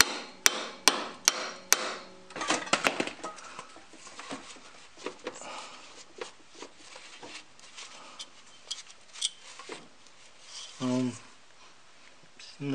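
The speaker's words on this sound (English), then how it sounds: "I'm gonna try to tap it with the hammer." A hammer strikes a stuck front driveshaft on a 2003 Toyota 4Runner V8, giving four sharp metallic taps in a row and then a quicker cluster of blows, followed by scattered lighter knocks and someone speaking.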